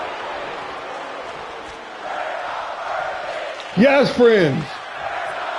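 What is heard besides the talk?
wrestling capacity crowd cheering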